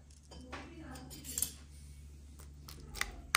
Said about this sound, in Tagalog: Tapos hahaluin nyo lang yan.